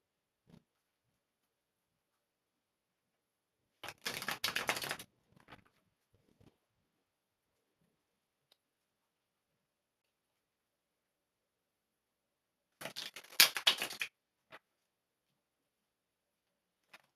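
Tarot cards being shuffled in two short bursts of quiet riffling and slapping, each about a second long and far apart, with near silence between.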